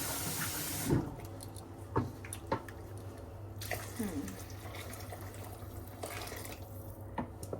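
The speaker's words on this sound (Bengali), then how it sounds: "এই যে এখন জল দিয়ে দিলাম গরম গরম জল দিয়ে দিলাম" Hot water poured into a cooking pot in a home kitchen, a faint splashing pour with small drips and clinks over a low steady hum, quiet and close.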